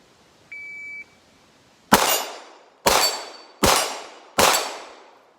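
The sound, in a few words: shot timer beep at start of pistol drill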